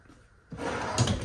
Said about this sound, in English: you have 1 pull-out drawer